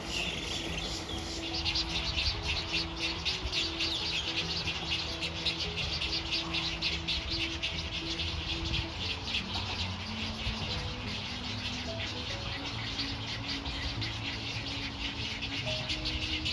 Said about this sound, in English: The chicks are hungry and they call to their parents for food.